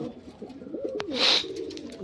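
Pigeons give a soft, low coo up close, followed by a brief bright chirp, heard alone over quiet background.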